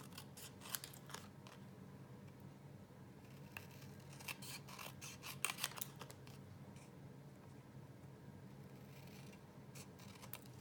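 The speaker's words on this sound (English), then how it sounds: "I'm going to trim this, just kind of go around the edges" Scissors trim around the edges of 6x6 patterned paper in a quiet craft setting, with soft, close snips in irregular clusters and occasional light paper rustles.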